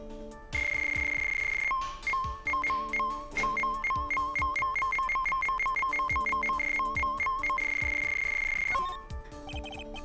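A cell phone ringtone from the Phoenix Wright Ace Attorney: Justice For All video game, a bright repeating electronic melody that rings loudly and steadily for about eight seconds over faint background music.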